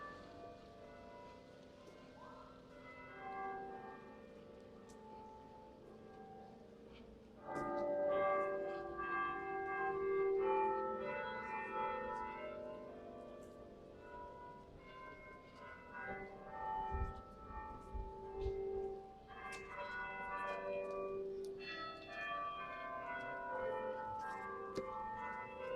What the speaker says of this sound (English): Minster bells playing out.